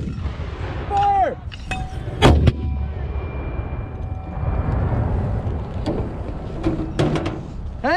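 An 81mm mortar fires a red phosphorus round at a live-fire range, a sharp heavy boom around two seconds followed by a rumbling decay and echo, with shouted commands and other voices before and after.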